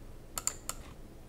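A few crisp key presses on a computer keyboard, three sharp clicks in quick succession at moderate level over a quiet background, with no talking.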